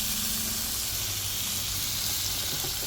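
Marinade sizzling and hissing on a porterhouse steak over a flaming barbecue grill: a steady, broad crackling hiss with a low hum underneath, continuous throughout without any talk.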